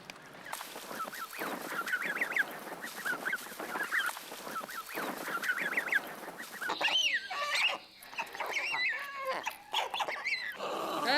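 Geese and other farm fowl honk noisily in a bird-rearing yard during imprinting work for a wildlife film. The calls come as rapid, repeated, overlapping honks, fairly loud and continuous, with a dog-like bark mixed in.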